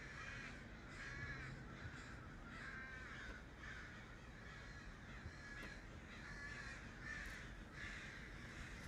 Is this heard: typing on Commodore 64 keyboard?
no